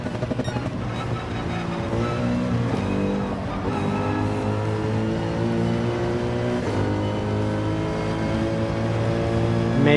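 A Mercedes-AMG race car in the Gran Turismo 7 video game drones steadily through laps, its engine note rising and falling with gear changes, continuous and fairly close with no talk.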